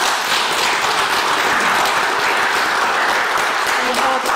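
At a Sunday church service the congregation breaks into loud, sustained applause for first-time visitors, a thick, continuous roar of clapping from many hands with little else heard.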